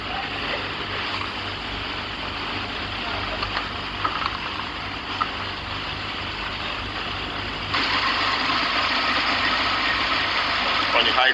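Steady close engine hum of a Hyundai Kia Sportage with the air conditioning compressor engaged during an AC fix, with a broad whooshing hiss that gets louder partway through and a voice speaking over it.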